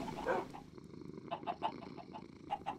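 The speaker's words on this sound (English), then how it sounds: "There is a putty cat upstairs." A cat makes a strange noise upstairs in a modded Minecraft 1.14 Steamcraft game: a short series of rough, purring, chirping calls at a quiet level over steady background hum, with no talking.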